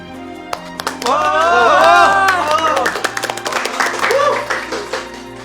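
A small group on a drama production set reacts to a director's introduction, first with loud voiced exclamations and then scattered, lively clapping that tapers off near the end.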